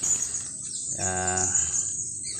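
Caged serindit, the blue-crowned hanging parrot, gives a short clear harmonic call lasting about half a second, close by, over a steady high-pitched background whine.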